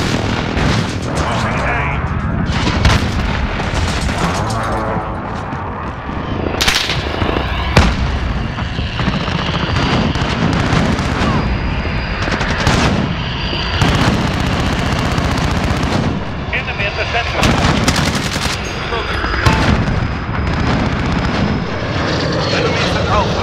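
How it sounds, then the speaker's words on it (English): Precision airstrike explosions and battle noise in Call of Duty Modern Warfare, with dense continuous gunfire, booming blasts and aircraft roar filling the mix loudly throughout, with voices mixed in. "Enemy precision airstrike inbound."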